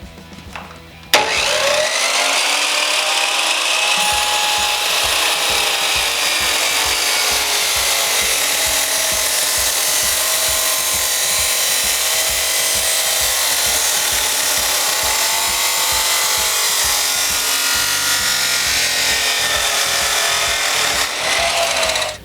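A power grinder cuts and grinds down a steel collar for a shorty muffler baffle on a Maxim XJ650 cafe racer build. It makes a loud, continuous whining grind for about twenty seconds, with the pitch shifting slightly as the load changes.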